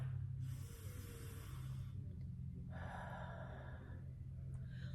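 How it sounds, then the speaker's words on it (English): Belly breathing, drawing air in through the nose and letting it out through the mouth, two long airy breaths separated by a pause, close and clear with no talk. "You're going to breathe in through your nose. You're going to fill up your belly with air, and you're going to breathe out through your mouth."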